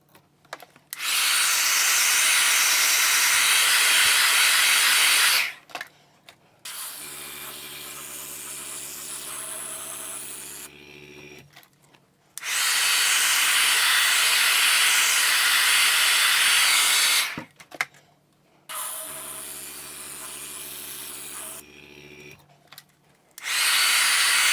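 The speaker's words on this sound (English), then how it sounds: "So we're going to grab our hairdryer and do that again here." Hairdryer blowing on body paint, a loud steady airy roar in two long bursts of about five seconds each, separated by a quieter lower hum with brief clicks as it switches settings.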